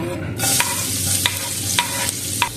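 Garlic sautéing in a pan for chicken tinola: a steady sizzle of frying runs throughout, with a few sharp utensil scrapes and taps as it is stirred.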